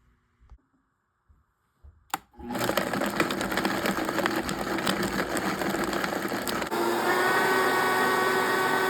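After a few faint clicks and knocks, a blender motor roars to life, grinding spices with egg whites in a loud, steady whir that holds for several seconds and shifts slightly in pitch near the end.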